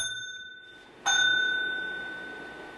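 A single bright bell strike rings out sharply and then hangs in a long, slowly fading ring over a faint steady hum.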